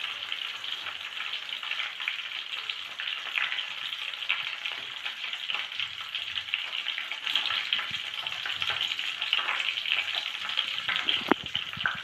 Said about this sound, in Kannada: ಈಗ ಒಂದು ಸ್ವಲ್ಪ ಕರಿಬೇವನ್ನ ಹಾಕೋಣ. ಮತ್ತು ಈಗ ಸ್ವಲ್ಪ ಜೀರಿಗೆನ ಹಾಕೋಣ ಇದರಲ್ಲಿ.